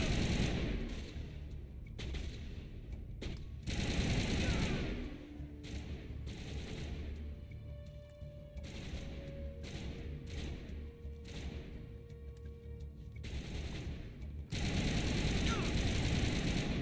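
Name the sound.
gunfire in video game Mass Effect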